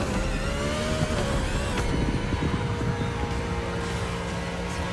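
A NASCAR-style race car in The Crew Motorfest accelerating on nitrous, its engine holding a dense, steady drone with a slowly shifting pitch, loud and continuous for the whole stretch, with no voices.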